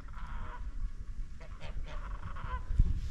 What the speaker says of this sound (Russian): Гуси там, да? Гуси, да, много-много.